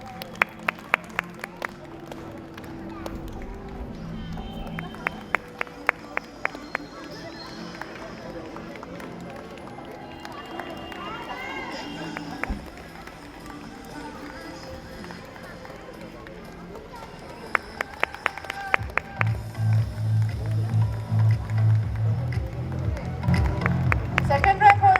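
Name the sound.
applause for school rank holders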